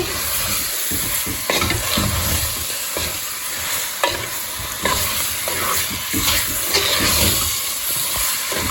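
Goat liver frying in a pan, with a continuous hissing sizzle broken by a few sharp scrapes and clinks as it is stirred, fairly loud and close, without any voices.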